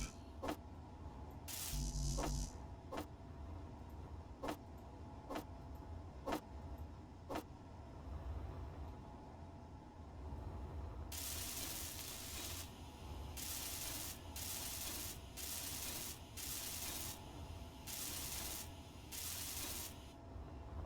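Blocks being welded in the space-building video game Space Engineers: a run of sharp, evenly spaced clicks, then a series of loud, bright, hissing spray-like bursts that pulse on and off over a steady low mechanical hum.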